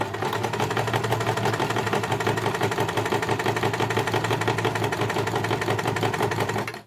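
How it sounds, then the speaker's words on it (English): A sewing machine running steadily on fabric for reverse stitches, a continuous close, loud whirring hum that holds even until it stops at the very end. "I'll do some reverse stitches to start us off."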